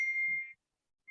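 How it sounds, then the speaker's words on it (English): A bell rung nearby gives a clear, sustained metallic ding that decays over about half a second, then a second strike begins, with no talk. "they're ringing the bell over there"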